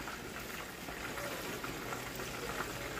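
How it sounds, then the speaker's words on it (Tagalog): Broth for a fish-head soup at a rolling boil in a pot, giving a steady, dense bubbling wash that holds at an even level throughout, with no voices. "kulong-kulo ang ating pinapakuluang sabaw dyan"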